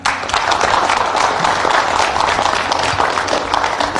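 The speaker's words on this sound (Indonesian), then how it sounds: "kita berikan tepuk tangan" A room of people breaks into loud, continuous applause during a televised discussion, the crowded clapping filling every second at a steady level.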